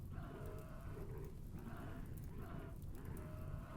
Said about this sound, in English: They sound like cows.